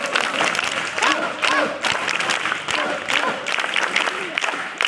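An audience at a youth group gathering applauds its teachers with full, continuous clapping, fairly loud and mixed with crowd murmur throughout.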